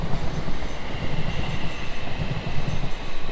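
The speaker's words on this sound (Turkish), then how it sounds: "Evet şuradan böyle bir tren geçiyor." A train passes close by, a loud, steady rolling rumble with a faint rhythmic clatter of wheels that holds through the whole stretch, with no voices.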